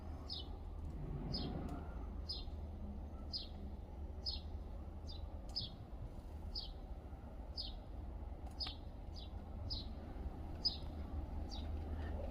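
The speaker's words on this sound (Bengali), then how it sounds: "কোয়েল পাখি।" A quail calls repeatedly in a home garden, short bright chirps spaced roughly every half second to second in a steady series, fairly close over a quiet low background hum.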